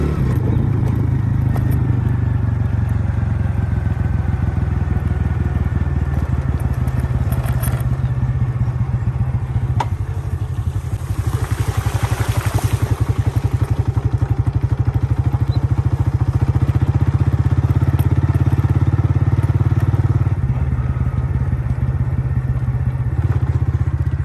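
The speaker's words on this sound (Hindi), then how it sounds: "ज़्यादातर बाइक चला रहा हूँ" Motorcycle ridden along a very muddy road near the Jam Sadiq Bridge and Qayumabad Interchange, its engine droning loud and continuous throughout with rumbling wind and road noise and occasional clattering bumps.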